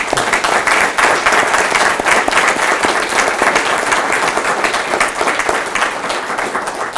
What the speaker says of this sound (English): let's give them one more round of applause, please